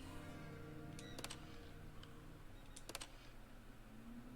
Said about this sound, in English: I was clicking through pictures of birds.